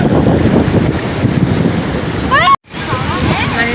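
Sea waves wash in and pull back at a beach, a steady broadband surge with heavy wind rumble on the microphone and a brief dropout near the end.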